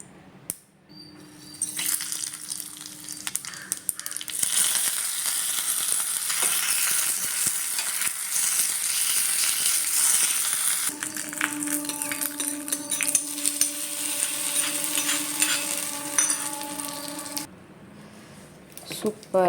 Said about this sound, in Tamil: இப்போ இதை தாளிப்பு கொடுத்துடலாம்